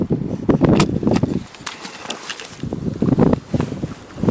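Squall wind gusting across Lake George around a canoe, rough buffeting bursts that rise and fall in waves, loud and close against the microphone, alone without talk.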